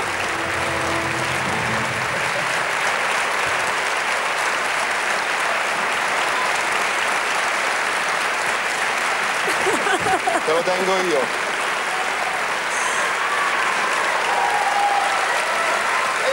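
At the David di Donatello award ceremony, an audience applauds in a long, even wash of clapping, with a few spoken voices and a brief vocal moment rising above it midway.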